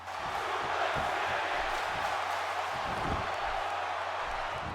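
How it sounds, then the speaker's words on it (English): Arena crowd in the WWE 16 wrestling video game chanting steadily, a dense, loud roar of massed voices with rhythmic pulses running throughout. "And the crowd chanting Suplex City again."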